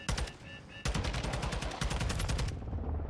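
Dense automatic gunfire in the Modern Warfare 2 campaign, rapid close bursts with a brief pause before sustained firing resumes, loud throughout.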